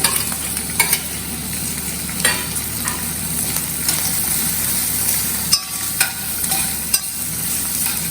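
Capsicum and zucchini pieces stir-fry in a pan for an Indo-Chinese sweet and sour paneer, with a constant sizzle and occasional sharp scrapes and clinks from stirring, close up and alone.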